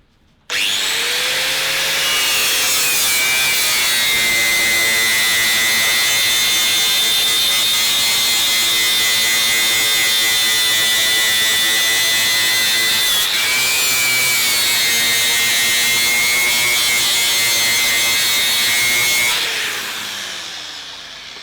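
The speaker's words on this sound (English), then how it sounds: "I might just try a wire brush for comparison." A power tool spins a wire brush against a workpiece in one steady, loud, continuous whine, with a slight change in pitch partway through, then spins down at the end.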